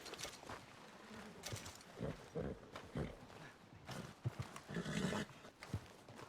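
A horse in the video game Red Dead Redemption 2 whinnies and snorts repeatedly alongside scattered hoof clops, moderately close, with rough bursts of animal noise rising and falling.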